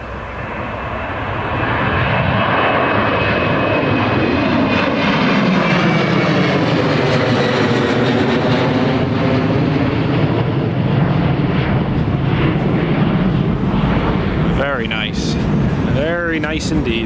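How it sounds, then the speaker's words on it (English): A TUI Boeing 737-800 departs Newcastle airport, its loud jet roar swelling and sweeping past with shifting tonal whine, sustained and near, with a voice talking briefly near the end. "That's the TUI 737-800 there"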